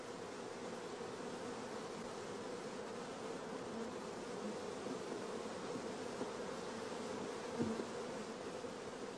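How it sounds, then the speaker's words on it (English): Honeybees on brood frames holding open brood and young larvae, a faint, continuous soft buzzing hum with a brief knock near the end. "Here, many young bees are occupied in nursing the young larvae."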